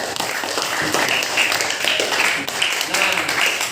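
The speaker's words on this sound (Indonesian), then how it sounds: "Tepuk tangan untuk Pak Mas." Classroom of students clapping for a teacher, Pak Mas, a dense, fairly loud burst of hand claps that carries on steadily for several seconds, close by.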